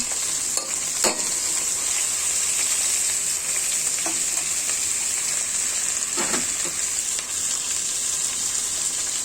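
Thin, large slices of bitter gourd (karela) fry in a pan with a steady, close sizzle, broken by a few soft clatters of stirring.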